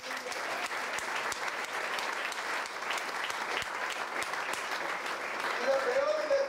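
Congregation clapping in a church during a Spanish-language sermon, steady dense applause throughout with a preacher's voice faintly mixed in.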